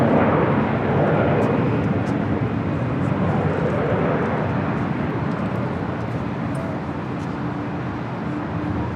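An airplane takes off from runway 24 left at LAX, a loud, continuous broadband jet roar holding steady throughout, heard from the airport outdoors with faint background voices.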